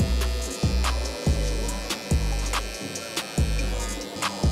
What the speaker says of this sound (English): I'm coming in with my clipper before my trimmer to establish this bald line